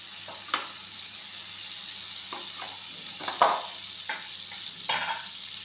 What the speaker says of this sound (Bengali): এখন আমরা কড়াইটার মধ্যে আবার 1 চামচ তেল দিয়ে দিলাম এবং দিয়ে দিচ্ছি বাটার